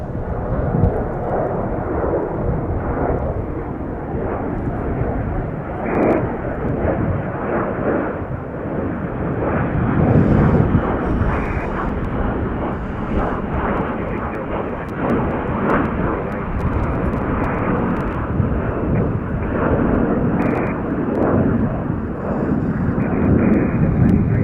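A jet departs Chicago O'Hare, its steady, loud roar swelling and lingering for a long stretch with wind buffeting the microphone.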